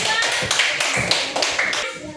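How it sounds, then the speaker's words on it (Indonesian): A classroom of students applauds a presenting student group, with dense, rhythmic clapping that stays steady and fairly loud for a couple of seconds, and faint voices mixed in. "Tepuk tangan dulu semua untuk kelompok 2."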